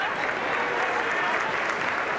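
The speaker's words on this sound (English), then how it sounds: "And the crowd very appreciative in their applause of this little man, Alan Langer." A crowd at a 1990 rugby league match between St Helens and Australia gives sustained, dense applause throughout. A commentator's voice sits faintly underneath.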